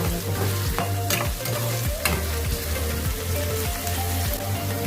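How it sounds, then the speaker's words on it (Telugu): Chopped onions fry in a pan for a vegetable pulao, a continuous close sizzle broken by regular scraping strokes of a spatula stirring them, no talking. "ఆనియన్స్ వేసుకుందాం. ఇప్పుడు మనం ఇది బాగా ఫ్రై చేసుకుందాం."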